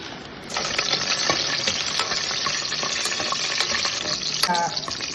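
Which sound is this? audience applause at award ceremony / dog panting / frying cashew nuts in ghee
frying cashew nuts in ghee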